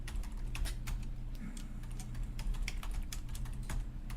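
Quiet typing on a computer keyboard to log in to a PDP-11/70 replica running 2.11BSD: a quick, irregular run of light key clicks over a low background hum.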